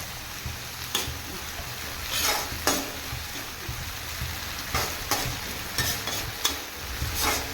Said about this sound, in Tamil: வெங்காயம் போடும்போது கொஞ்சம் உப்பு போட்டுக்கலாம் அதுலேயே வதக்கிறதுக்கு